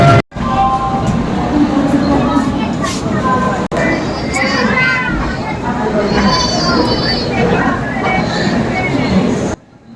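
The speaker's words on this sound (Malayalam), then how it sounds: "ഞാനിപ്പം ട്രെയിനിലാണ്" Steady rumble and clatter inside a moving train carriage, with a person talking close by throughout.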